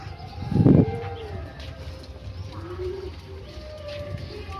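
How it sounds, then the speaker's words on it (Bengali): A fancy pigeon coos inside its coop, giving a low, soft throaty call among other faint bird sounds, with a brief louder burst near the start. "আবার ডাকছে ভেতরে ঢুকে।"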